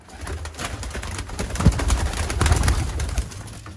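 Sialkoti pigeons, including a batera type, make low cooing sounds close by. The calls come in soft repeated murmurs over a busy, noisy background.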